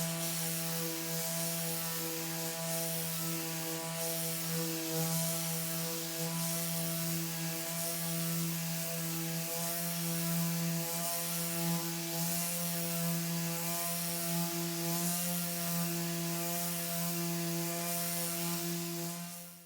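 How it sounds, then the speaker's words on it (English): A Dewalt cordless sheet sander runs steadily on plywood with 120-grit paper, a continuous close motor drone with a strong hum and a rough sanding hiss that holds level for the whole stretch, with no talking. "the sheet sander removes the lines on the plywood really well"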